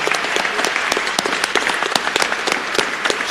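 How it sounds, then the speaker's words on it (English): An audience at the live Global Peace Song Awards breaks into loud, close applause, a busy stream of individual claps with sharp accents scattered throughout. "You know, please give a round of applause."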